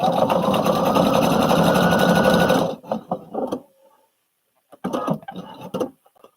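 A sewing machine stitches fabric in a steady loud whir for about two and a half seconds, then stops and runs in short stuttering bursts with brief pauses, close by, no talk.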